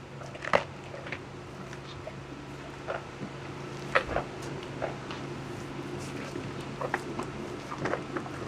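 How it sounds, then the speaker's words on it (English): Giraffe chewing corn at close range: soft, irregular crunches and wet mastication clicks repeating every second or so over a quiet low background hum. "this is the sound of giraffe chewing"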